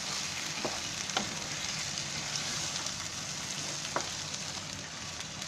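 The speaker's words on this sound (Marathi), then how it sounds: "त्या मसाल्याला तेल सुटेपर्यंत चांगलं तेल आटवायचं आहे" Masala spice paste fries in oil for a cashew curry, making a constant, even hiss of sizzling with a couple of faint clicks from the spoon.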